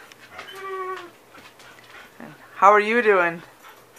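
A dog whimpers and yips in high, drawn-out tones near the microphone, with a person talking to it in between.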